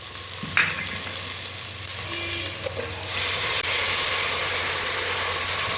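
Ground masala paste sautéing with fried onions in a pan for tomato rice, a steady sizzle of frying throughout, growing a little louder and brighter partway through, with a low background hum and no talking.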